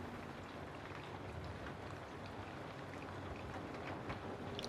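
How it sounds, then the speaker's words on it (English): Steady rain falls in a dense, even hiss with faint scattered drops pattering close by, a soft continuous wash with no talking. "The rain."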